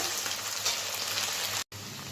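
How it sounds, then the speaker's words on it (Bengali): Potatoes sizzle in hot oil in a pan for a mutton ghugni, a steady moderate fry with a brief cut near the end. "আলুগুলো একটু ভালো করে ভেজে নিই"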